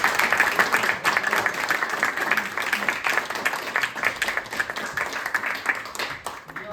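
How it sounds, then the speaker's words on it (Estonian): An audience applauds at a gathering, clapping for Andrei Kutnik and the Kopli volunteer fire brigade crew who laid the table. The dense clapping runs steadily for about seven seconds at moderate loudness. "Et teeme aplausi neile palun."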